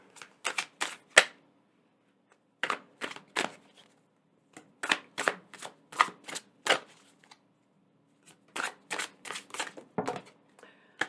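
Tarot cards being shuffled and drawn, heard as close, crisp bursts of snapping card riffles in several quick clusters separated by short pauses, with no talking.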